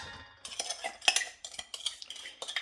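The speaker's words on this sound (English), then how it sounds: "I'm gonna grab a spoon and get some of that sugar out" A spoon scoops sugar out of a container in a run of quick, close scrapes and light metallic clinks against the sides, separated by short pauses.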